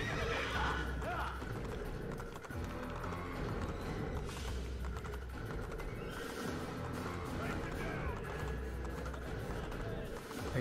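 Horse hooves clip-clop at a gallop with repeated neighs and whinnies in the Assassin's Creed video game, steady and close throughout, with someone talking over it.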